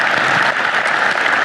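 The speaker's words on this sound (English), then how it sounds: "give a round of applause" A dense, sustained round of applause from an All Star Evening audience, loud and continuous with no voices over it.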